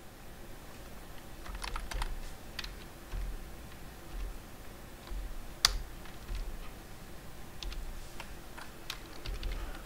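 Someone types a web address on a computer keyboard, producing quick irregular clicks in short bursts with one sharper keystroke midway, faint and close with no talking.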